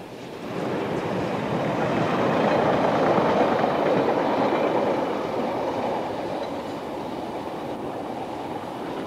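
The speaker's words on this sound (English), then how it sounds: "a 47 heads north on a mixed freight in 1988" A Class 47 diesel locomotive heading north with a mixed freight train along the Exe estuary sea wall in 1988, a steady rumbling roar that swells as it passes close and then eases, with no voices.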